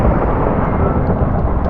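Heavy, continuous thunder rumbles loudly and evenly throughout, a dense low roar with no break.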